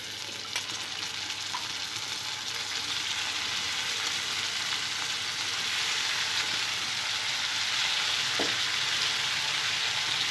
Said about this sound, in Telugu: ఉల్లిపాయ ముక్కలు ఫ్రై అయిన తర్వాత ఇందులో కట్ చేసుకున్న వంకాయ ముక్కలు వేసుకోవాలి.